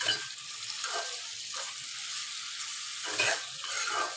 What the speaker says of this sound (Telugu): టమాటాలు వంకాయలు మంచిగా ఉడుకుతాయి ఆయిల్లో